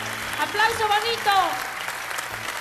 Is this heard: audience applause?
yes